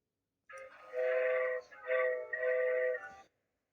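Vocal imitation of James's train whistle from Thomas the Tank Engine: a voice holds two bright, whistle-like tones in three bursts, the last two close together, near and fairly loud.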